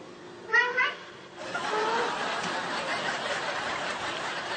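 A cat lets out a short pair of close, clear meows, after which a steady, hissing, broadband background noise sets in and continues to the end.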